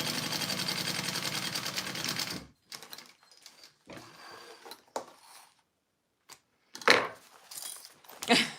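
Sewing machine stitching the side pockets of a garment, a loud steady mechanical whirr of rapid needle strokes for a couple of seconds, then quieter handling clicks and rustles.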